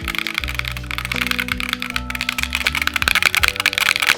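Clacky keystrokes from a Detour40 mechanical keyboard fitted with inexpensive AliExpress keycaps, a dense run of fast, close taps and clicks over a steady low tonal background.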